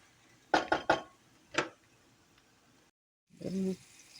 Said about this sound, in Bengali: হালকাভাবে একটু নেড়ে চেড়ে এখন আমি এটাকে নামিয়ে ফেলব